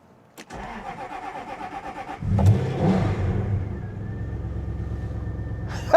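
A Jaguar XK8 left unused for a month cranks with a rhythmic starter whirr for about two seconds, then catches and fires into a steady, close idle.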